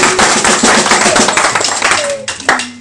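A church congregation applauds loudly together, a dense, continuous wash of clapping close by for a few seconds, with a voice speaking over it.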